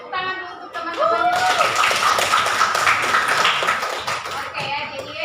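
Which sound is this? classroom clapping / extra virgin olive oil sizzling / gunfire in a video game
classroom clapping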